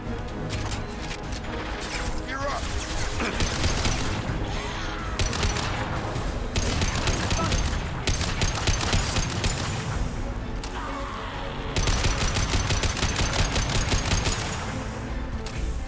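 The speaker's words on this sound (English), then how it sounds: "Rapid fire." Rapid automatic gunfire in the Mass Effect 2 video game, loud bursts of shots repeating in waves over a busy battle background, with occasional crashes and faint talk mixed in.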